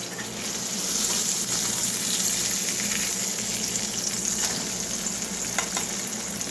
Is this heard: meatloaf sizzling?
yes